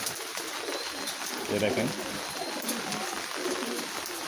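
Pigeons coo softly on a rooftop while feeding, low murmuring calls under a steady background hiss, with a person speaking briefly nearby.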